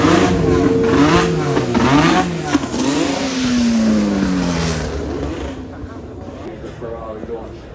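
Ferrari Spider launching and revving at the Goodwood Festival of Speed, a loud engine note rising and sweeping in pitch before fading off into the distance, with a voice talking over it.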